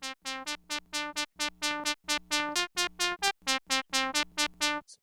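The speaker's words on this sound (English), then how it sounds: "So for example, from the Moog Source, sounds like this." A Moog Source synthesizer plays a quick rhythmic sequence of bright, buzzy notes, evenly spaced and punchy, over a low sustained bass tone.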